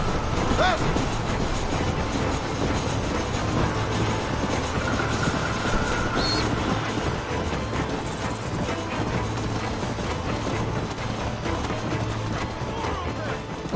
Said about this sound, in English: He said the Harry Potter train.